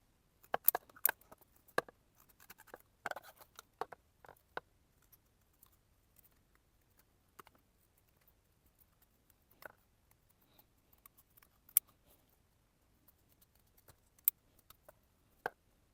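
Scissors snip through a fabric applique in a quiet room, a rapid cluster of small close cuts at first, then sparser, faint snips and clicks with long silent gaps.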